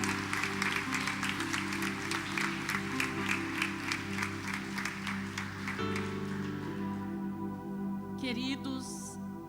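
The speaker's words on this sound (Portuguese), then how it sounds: "Eu quero que você aplaude o Senhor Jesus com toda a sua" A church congregation claps steadily and rhythmically over sustained keyboard or organ chords; the clapping thins out near the end as a brief high electronic tone sweeps in.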